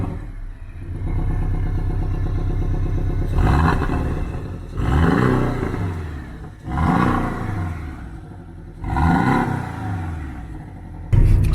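A Porsche 718 Cayman in sport mode revs repeatedly, four loud throaty bursts rising and falling over a low idling rumble, heard close with no talking.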